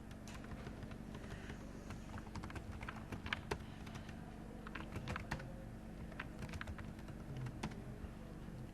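Text is typed on a computer keyboard in steady runs of soft, close key clicks with short pauses, over a faint background hum and no speech.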